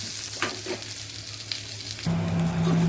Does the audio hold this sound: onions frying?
yes